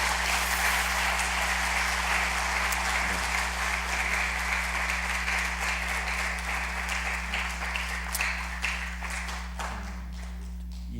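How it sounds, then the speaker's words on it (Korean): Sustained applause from a church congregation during a Sunday worship service fills the room, dense and steady for the whole stretch and gradually fading slightly, with no talking over it. "한번 박수해 주시고 인사하고 돌아가십시오"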